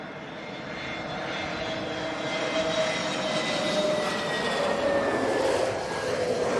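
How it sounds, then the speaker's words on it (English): An Iberia Airbus A320neo arriving at London Heathrow passes with a rising jet roar and faint whistling engine tones that slowly drop in pitch, growing louder toward the middle and holding steady, with no talking. "Iberia 320 Neo next in."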